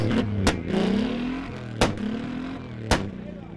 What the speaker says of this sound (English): we're listening to motors